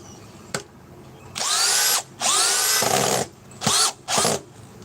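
A power drill whirs in several short bursts, spinning up with a high whine and stopping between runs, close and loud.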